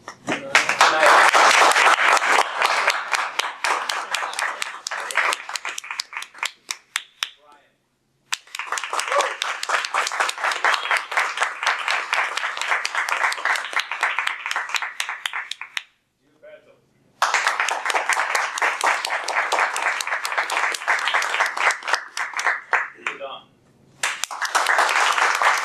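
At a Toastmasters club meeting, three loud bursts of audience clapping and applause, each lasting several seconds and separated by short silences.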